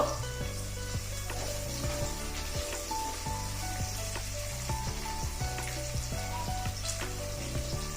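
Slit green chillies fry in oil over a medium flame for ulavacharu, a horse gram soup. A lively, crackling sizzle runs throughout, broken by scattered clicks and scrapes of stirring against the pan.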